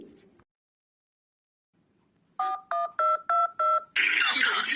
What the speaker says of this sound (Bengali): দাঁড়া, ওকে একটা ফোন করছি।